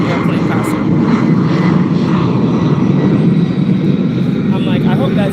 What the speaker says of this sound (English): there's an airplane passing